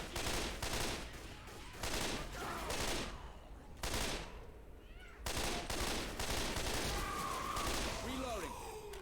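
Left 4 Dead 2 gunfire aimed at armored zombies rattles out in repeated loud bursts, broken by short pauses, with other game noise and chatter mixed around the shots.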